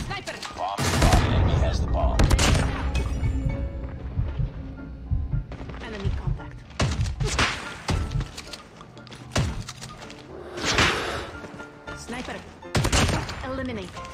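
A shotgun sniper fires repeatedly in a video game, loud sharp blasts spaced irregularly over a busy background of game sounds.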